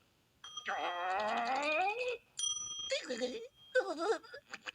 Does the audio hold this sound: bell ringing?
yes